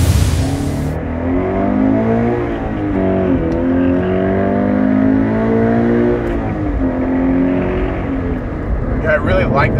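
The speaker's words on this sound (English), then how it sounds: "I really like the sound of the BLITZ intake as well." A 2013 Scion FR-S fitted with a BLITZ intake revs loudly and steadily through several rising and falling sweeps, close up, with no talk over it.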